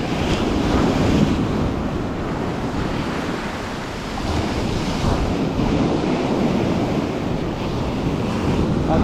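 Steady surf breaks on a sea shore during a spinning fishing trip, with a strong headwind buffeting the microphone in a constant, loud roar throughout.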